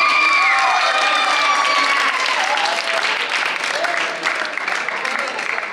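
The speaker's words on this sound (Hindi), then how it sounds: "बहुत तालियां, बहुत तालियां बच्चा" A crowd applauds loudly and steadily at a yoga award ceremony in Gurgaon honouring a first-place child, the clapping sustained throughout with an announcer's voice ringing out over it.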